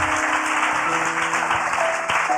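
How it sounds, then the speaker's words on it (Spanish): A church congregation breaks into loud, dense applause close by, continuous clapping throughout with a faint sustained tone underneath. "Si usted lo cree, denle un aplauso fuerte a Dios."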